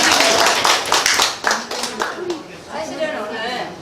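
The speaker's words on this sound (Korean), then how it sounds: "우리 이분들께 한번 박수 보내드리면 어떠실까요?" An audience at a community health and nutrition program event claps in a brisk burst that fades after a second or two, with voices and chatter continuing close by once the clapping trails off.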